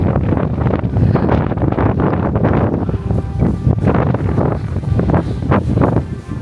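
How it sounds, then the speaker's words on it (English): Strong wind gusting and buffeting a microphone outdoors on the deck of the Disney Destiny cruise ship, loud rumbling bursts rising and falling with no voices. "it is getting progressively more windy"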